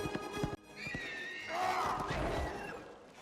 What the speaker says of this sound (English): Was that horse?